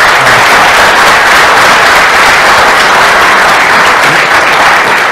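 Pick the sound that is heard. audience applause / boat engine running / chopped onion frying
audience applause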